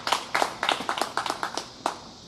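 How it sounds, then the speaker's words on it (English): Audience applause for a volunteer at a first-anniversary event, a short burst of sharp, fairly close hand claps with no talk over it. "Give her a big round of applause."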